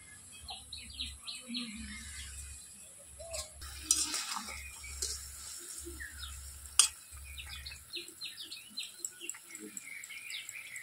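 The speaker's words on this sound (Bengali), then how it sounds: "ঝোল খুব ভালোভাবে ফুটে গেছে। এবার ভেজে রাখা পটলের কোপ্তাগুলো দিই।" Curry gravy boiling in a pan with fried pointed gourd koftas, a soft steady bubbling and sizzling under occasional stirring scrapes, with faint bird chirps in the background.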